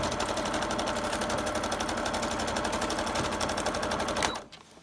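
A sewing machine runs steadily and close, stitching lace onto a journal page with a fast, even whirring rattle, then stops abruptly near the end.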